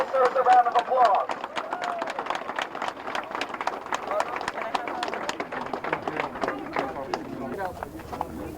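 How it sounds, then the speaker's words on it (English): Crowd at an outdoor peace rally in Lawrence claps for police officers, with a steady patter of close, sharp handclaps mixed with voices talking and calling out. "let's give our good officers a round of applause"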